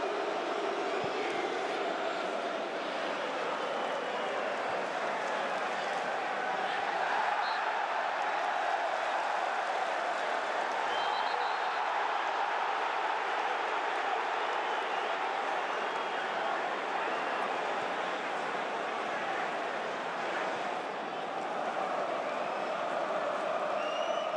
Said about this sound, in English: The crowd aren't happy.